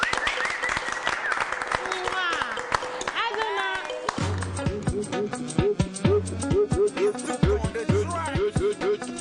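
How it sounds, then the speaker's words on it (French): A studio audience claps at the close of a national Togolese television show, brisk applause mixed with a presenter speaking over it and bright electronic musical pings. "on applaudit pour finir"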